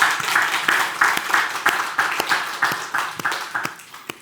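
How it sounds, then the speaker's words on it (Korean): A Sunday morning church congregation applauds a newlywed couple during an Easter worship service, giving a few seconds of steady, moderately loud clapping with no voices over it. "박수 좀 해주세요."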